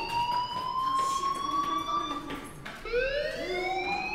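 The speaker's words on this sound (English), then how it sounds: "Do you hear that fire alarm? That means you should be outside" A school fire alarm in the game Life is Strange wails loudly and continuously. Its rising electronic tone breaks briefly and then climbs again.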